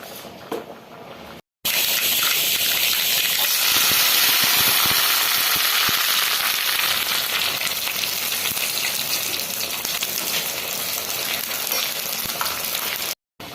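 Kerala-style lentil curry boils in a pot, a steady bubbling hiss with soft pops that carries on without pause and with no talking.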